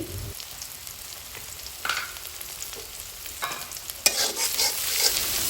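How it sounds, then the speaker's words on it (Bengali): Chopped onions and chillies fry in hot oil with a soft, continuous sizzle, broken by several scraping stirs that grow busier and louder toward the end. "ওই তেলের মধ্যেই দিয়ে দিয়েছি কেটে রাখা পেঁয়াজ ও মরিচ এগুলো একটু নেড়ে চেড়ে নরম করে নেব"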